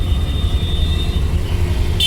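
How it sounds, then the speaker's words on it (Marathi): Road traffic heard from inside a vehicle stuck in a jam, a loud steady engine rumble with faint background hum and a brief higher squeal near the end. "बाहेर तर निघालोय पण आम्ही ट्रॅफिक मध्ये फसलोय"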